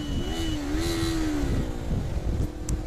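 Motorway traffic roar from inside a moving vehicle, with a DHL van passing nearby, its engine tone sweeping briefly over a steady rumble of road noise.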